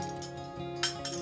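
A spoon clinks against a small bowl while about four spoonfuls of water are measured out for a home remedy, two light, bright taps near the end over a steady background hum.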